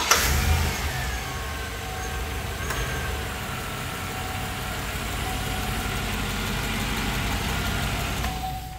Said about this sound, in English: Start it up for you real quick so you can hear the motor